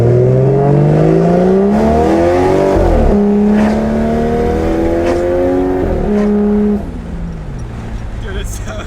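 A Honda Civic engine revs up through several rising sweeps with quick gear shifts between them, loud and close, then drops back to a steadier drone as the car eases off.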